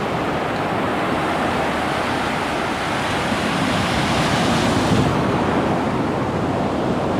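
Ocean waves breaking on the shore in Freetown at sunrise, a continuous broadband roar of surf with a steady, close, fairly loud wash and slight wind buffeting.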